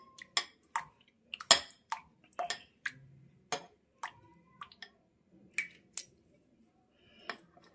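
Flour batter for a chicken cutlet coating is stirred in a bowl, giving a series of soft, wet, sticky clicks and squishes at an irregular pace, close and fairly quiet.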